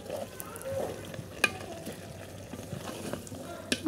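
Potatoes and flat beans with fish sizzle softly in a pan for a curry, a low, even frying hiss with occasional light clinks and stirring taps close by.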